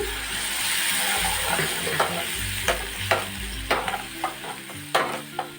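Water splashed into a hot pan of frying egg and spinach, raising a loud steady sizzle, with stirring scrapes and clicks from a utensil against the pan growing more frequent toward the end.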